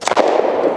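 A single sharp report from a Sig P239 pistol firing .40 S&W Hornady Critical Defense ammunition, close and loud, with a brief ringing tail.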